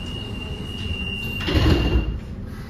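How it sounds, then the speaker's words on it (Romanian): Doors on a CAF train of the Bucharest metro slide shut with a loud rumbling thud after a steady warning tone, under the hum of the carriage. "Atenție, se închid ușile."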